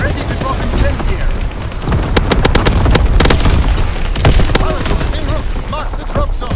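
Incendiary firebombing run in a World War II video game: rapid bursts of explosions and gunfire crackle and boom in dense succession, loud and close, amid continuous battle noise.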